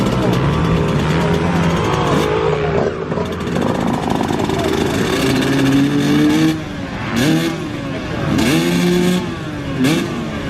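Vintage motocross bikes race at Farley in a veterans' twinshock and Super Evo event, engines revving and rising in repeated pitch sweeps as riders pass close by, loud and rasping, with people talking over the racket.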